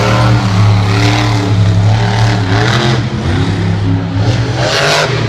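A monster truck engine roars and revs at a Monster Jam stadium show, loud and close, with rising and falling throttle swells over a dense, rumbling crowd-filled background.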